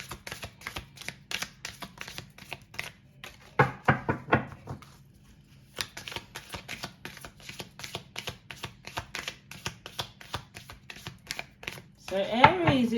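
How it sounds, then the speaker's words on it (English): Tarot cards are shuffled in quick, crisp riffles and flicks, then drawn, with soft paper snaps and taps coming in bursts and short pauses, close by, and a voice speaking near the end. "I like to get 3 cards out"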